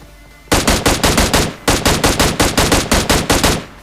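Rapid video game automatic gunfire in a battle royale match, a loud, close, rhythmic burst of evenly spaced shots lasting about three seconds, heard alone.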